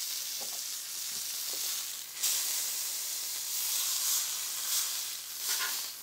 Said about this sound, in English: You can see we got a nice roast or sear going there.